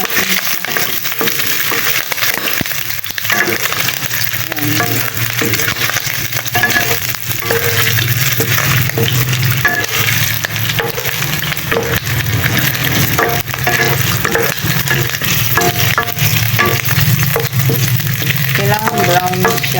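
Shrimp paste sautéing in hot oil, a loud continuous sizzle and crackle close up with occasional stirring scrapes throughout.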